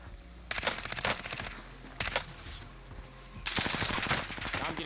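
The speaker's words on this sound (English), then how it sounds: "Now I'm getting shot in my back" Gunfire in the video game Call of Duty Warzone, three loud bursts of rapid automatic shots separated by short pauses, close and without talk.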